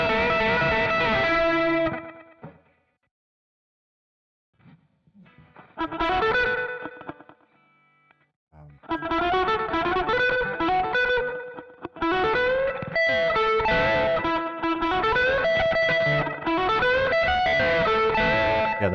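Electric guitar with effects, played in bursts of picked notes and chords. The passage breaks off into near silence before the playing resumes, including a country-style string bend, with no voices.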